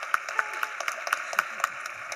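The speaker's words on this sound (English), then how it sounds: "Give them an applause, please." A conference panel audience gives translators a short round of applause, with sparse, uneven claps from a small room heard over someone speaking.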